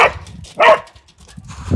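An excited dog at a flooded holiday park barks in short bursts, close and loud, with rough outdoor noise between the barks.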